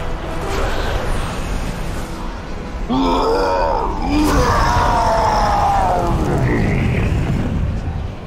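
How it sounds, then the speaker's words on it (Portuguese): A loud, drawn-out cry of pain from a creature in World of Warcraft, heard as strained groaning vocal tones over a dense, booming game background for several seconds. "Grito alto de dor."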